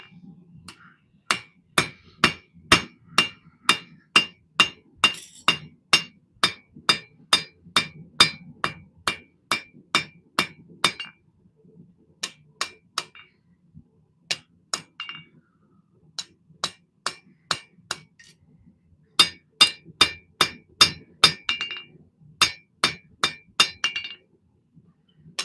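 A hammer forges a custom knife with loud, ringing metallic strikes in quick bursts of steady blows, several runs separated by short pauses, close and alone.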